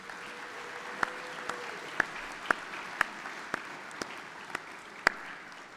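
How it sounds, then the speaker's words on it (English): Distant applause from cadets at a military junior college graduation ceremony, a soft steady patter in a large space punctuated by roughly once-per-second sharper claps or thuds and a brief low tone early on. "let's give all of these family and friends a round of applause."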